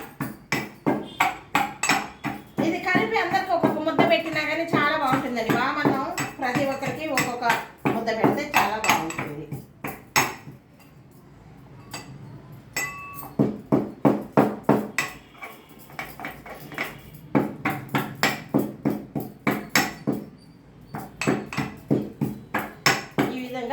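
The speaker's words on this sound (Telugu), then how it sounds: "ఇదిగో ఇట్లా దంచేయాలి మెత్తగా" Ingredients pounded finely in a mortar with a pestle for a homemade rice dish: sharp, steady, metallic-sounding thuds repeating close by for the whole stretch, with a voice running over the first half.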